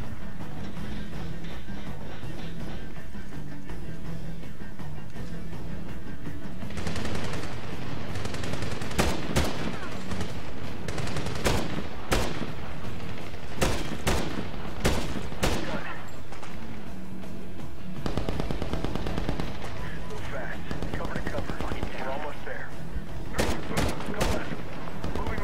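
Bursts of machine gun fire ring out in the video game Medal of Honor, with sharp, loud volleys and single shots scattered through a busy battle background, mixed with talking voices.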